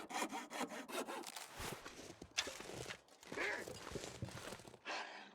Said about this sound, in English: I can use the hacksaw